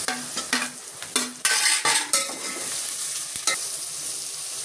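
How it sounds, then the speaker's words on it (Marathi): Tomatoes tossed into hot oil in a pan sizzle loudly, punctuated by sharp scraping stirs and clinks of a spoon against the metal, close up with no talking. "टमाटर टाकून घेते."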